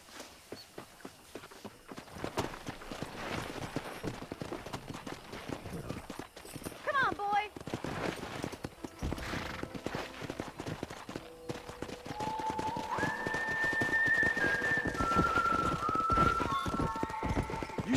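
Horse hooves clip-clop in Red Dead Redemption during horse wrangling, with irregular hoofbeats and footsteps under a cowboy game soundscape, while music-like tones rise in the second half and grow louder.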